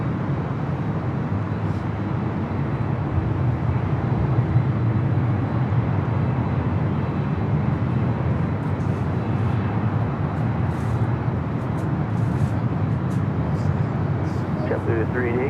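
Steady, loud roar of a JetBlue jet airliner at Los Angeles International Airport (LAX), continuous broadband engine noise filling the whole stretch with no pauses, tower radio traffic faintly present.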